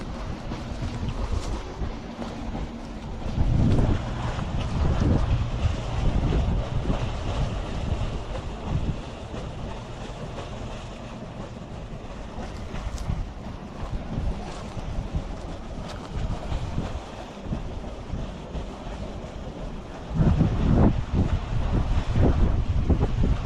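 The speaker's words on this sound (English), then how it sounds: "Oh, that's a cold wind." Cold wind gusts buffet the microphone beside an outdoor campfire, a continuous low rumble swelling loudest near the start and again toward the end.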